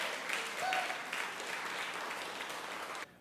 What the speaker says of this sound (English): Applause for our friends from the Cloverleaf.